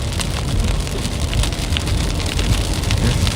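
Golf-ball-size hail, about 1.75 inches, pelts down during a Kansas or Nebraska storm, a dense continuous clatter and hiss of impacts that stays loud and steady throughout with no voices.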